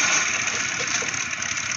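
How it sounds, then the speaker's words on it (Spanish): Motorcycle mount engine idling in World of Warcraft (Cataclysm), a steady, loud broadband rumble that holds throughout with no voices. "Moto se compra con ingeniería"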